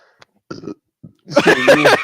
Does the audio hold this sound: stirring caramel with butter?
no